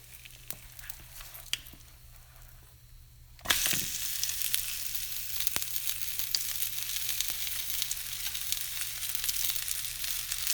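A blueberry pancake sizzles in butter on a pan, quiet at first, then jumping to a loud, steady broadband sizzle as it is flipped about a third of the way in, continuing close up with no talking.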